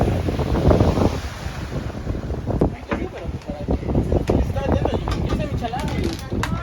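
Sea waves wash steadily onto a beach in Cancún, a continuous surging rush mixed with wind buffeting the microphone, loud and close.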